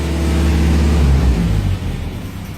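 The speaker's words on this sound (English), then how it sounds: "with the engine revved up a bit" A car engine held at a raised idle around 1500 RPM hums loud and close with a steady low drone, easing slightly toward the end, with no talk over it.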